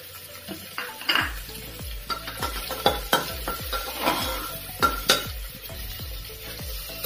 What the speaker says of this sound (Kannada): ಬ್ರೌನ್ ಫ್ರೈ ಆಗಬೇಕು ಈರುಳ್ಳಿ.